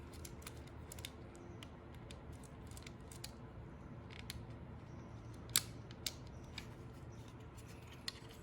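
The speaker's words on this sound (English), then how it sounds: "Take off the first bolt, the second bolt." Bolts are unscrewed from a D12 extruder cover, giving faint, close ratcheting clicks and small metallic ticks at irregular intervals over quiet background, with no talk.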